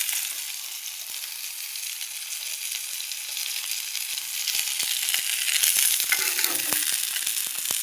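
Fish deep frying in hot oil, a continuous bright crackling sizzle with scattered pops that grows slightly busier toward the end, close and alone.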